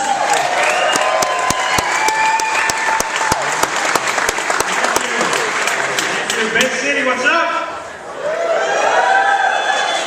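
Loud theatre crowd applause and cheering for a comedian taking the stage at a comedy show, sustained clapping with whoops throughout; a voice greets the audience over it near the end as the noise briefly dips.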